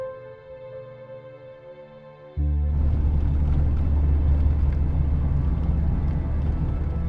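A car drives along the road, its steady loud engine and road rumble kicking in abruptly after a quiet start and holding near and constant.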